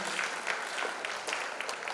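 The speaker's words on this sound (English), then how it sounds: "Oh, please clap for me. Clap for me." Audience clapping at a career fair event in Kumasi, steady and continuous applause heard at a moderate distance with no speech over it.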